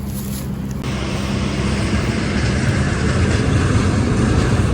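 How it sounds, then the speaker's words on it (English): A loud truck roars past on a county road near outdoor beehives, a broad rushing rumble that swells steadily and stays close and heavy, with wind buffeting mixed in. "I think every loud truck has decided to pass us right now."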